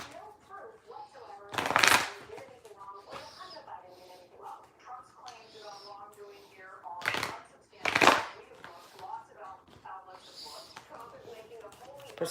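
Tarot cards shuffled by hand in two quick riffling bursts, crisp and close, separated by stretches of soft handling while someone talks quietly.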